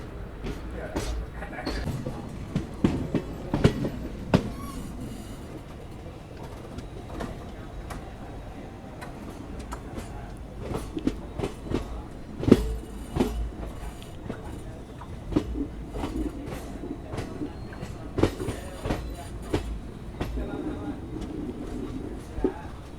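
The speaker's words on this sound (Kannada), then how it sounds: "ಇದು ನಮ್ಮ ಮೈಸೂರು ಚಾಮರಾಜನಗರ ಪ್ಯಾಸೆಂಜರ್ ಟ್ರೈನ್" Riding aboard the Mysore–Chamarajanagar passenger train, a continuous low rumble carries sharp, irregular clacks and knocks from the wheels and carriages throughout, moderately loud and nearby.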